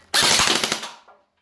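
An M401 blaster fitted with a drum magazine and shooting at 360 fps lets off a rapid burst of sharp, close shots that fades out quickly within about a second.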